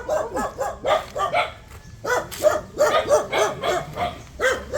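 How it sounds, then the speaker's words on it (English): Dogs barking in a quick, repeated string of yips and woofs at moderate distance behind a person out walking, with a brief spoken exclamation. "There's dogs behind you"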